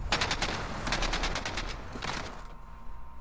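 Gunfire in the video game Modern Warfare comes as a loud, rapid automatic burst that runs for about two seconds. A second short burst follows, then the firing stops.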